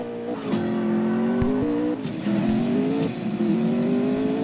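A McLaren supercar engine in the CSR2 racing game revs through several rising pitches, with short gear-shift dips and clicks. The sound is steady and fairly loud, with no talk over it.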